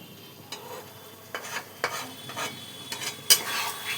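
Muri ghonto, a fish-head rice dish with potato and ghee, is stirred in a pan. Soft, scattered scrapes and clacks of the spoon sound over a low sizzle, with one brighter metallic tap near the end.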